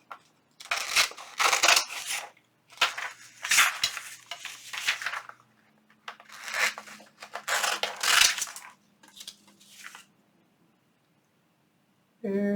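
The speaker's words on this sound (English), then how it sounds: "I'm going to cut my piece out" Scissors cutting a rectangle out of paper, bursts of crisp snipping and rustling in several spaced runs, close, ending in quiet.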